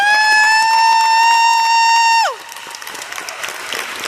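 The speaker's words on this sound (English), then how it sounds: "Let's stand on our feet and give both of these outstanding candidates a round of applause." Audience applause at a Fulton County Commissioner District 5 debate follows a loud, long held tone that stops abruptly. After it, a moderate, steady patter of clapping fills the room.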